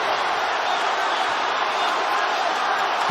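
Dense, sustained roar of a large arena crowd cheering at a UFC fight between Poirier and Makhachev, steady and loud throughout with no distinct voices standing out.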